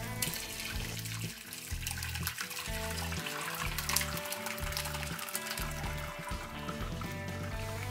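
Whey pours and drains through a cotton cloth while homemade paneer is strained, a steady close splashing trickle of liquid that runs on without a break.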